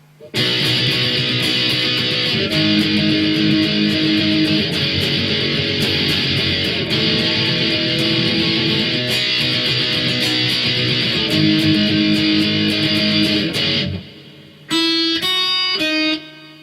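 Distorted electric guitar strums a continuous run of heavy power chords in a verse riff, loud and steady, ending with a short pause and a few single ringing notes.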